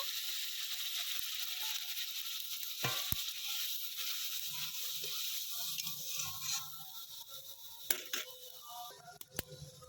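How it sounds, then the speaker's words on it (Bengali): Hot water hits frying masala for Doi Katla, a fish curry, producing a soft, steady sizzle and bubbling with occasional clinks of a utensil against the pan; quiet overall, with no talking. "এবার দেবো আমি গরম জল, যতটুকু লাগবে সেই পরিমাণ দেব"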